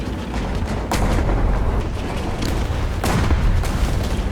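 Tank cannon fire in the War Thunder game, a Tiger H1 and an M4A3E2 Jumbo trading shots, several heavy booms a second or so apart over a dense, loud rumble of battle.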